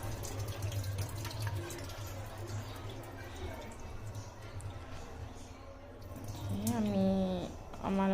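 Bitter gourd pieces being rinsed by hand in water, with steady splashing and swishing close by, a burst of sloshing near the end, and a voice talking over it.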